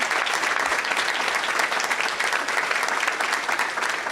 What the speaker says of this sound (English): Can we please get a round of applause for these fabulous women?